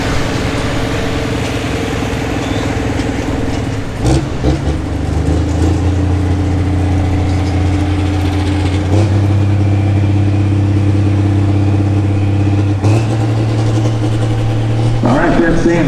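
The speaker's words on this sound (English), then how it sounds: "At our first look at the semis at the World Series of Pulling" Hot rod semi trucks at a truck pulling event at Summit Motorsports Park, loud diesel engines droning and revving with steady pitch changes and sharp surges, close and continuous, with an announcer speaking over the roar.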